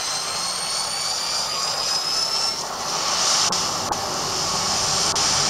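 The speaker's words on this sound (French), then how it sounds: "J'ai un avion qui passe au-dessus de chez moi, j'espère que ça s'entendra pas tellement." A jet airplane passes over a house, producing a steady high-pitched whine and broad roar that stays loud and continuous throughout, with faint clicks in the room and no voices.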